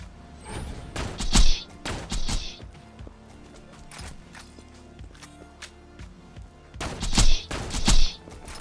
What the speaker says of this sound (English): Now this shock sniper is working out well. This shock pimpernel with the shock bone of the ancients.